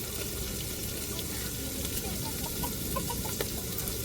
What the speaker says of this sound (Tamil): நல்லா இஞ்சி பூண்டு பச்சை வாடை மாறத்தட்டிக்கு நல்லா வதக்கி விட்டுக்கிறோம்